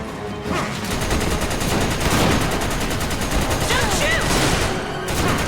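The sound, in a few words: gunfire in the video game Resident Evil 5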